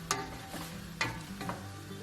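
Lamb chunks searing in a pot for an Ottoman-style stew while a spoon stirs them: a soft continuous sizzle broken by two sharp scraping clinks about a second apart, close and fairly quiet.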